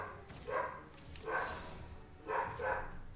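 Dogs in the video game Shadowverse bark in three spaced bursts of short yips, moderately faint and alone without speech.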